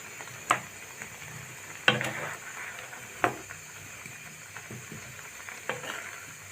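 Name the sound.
stirring mango with turmeric and spices in a pan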